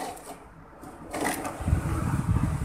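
An electric fan with a weak run capacitor turns too slowly, its motor giving a low, rough mechanical whir that grows steadier and louder partway through, close by with no talk.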